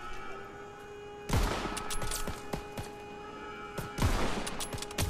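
Carbine gunfire in the World War II shooter game Call of Duty: WWII, bursts of sharp shots in two volleys with a steady background hum, loud and close.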